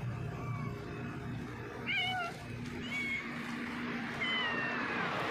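A thin, homeless cat meows several times, short high calls repeating over a few seconds at moderate distance above low background noise.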